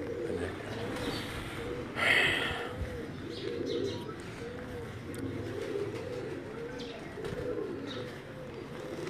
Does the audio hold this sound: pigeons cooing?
yes